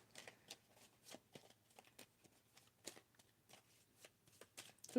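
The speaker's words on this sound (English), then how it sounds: "I have not shuffled the zodiac cards." Zodiac tarot cards are shuffled close up and quietly, a series of soft, rapid riffles and taps in an uneven rhythm, with no talking.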